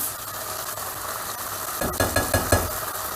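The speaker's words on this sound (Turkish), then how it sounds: "Şöyle bir karıştırıyorum tekrar baharatlarımı da" A spoon stirs spices into a pot of green lentils over a steady simmering hiss, then knocks against the pot in a quick run of four or five close metallic taps near the end.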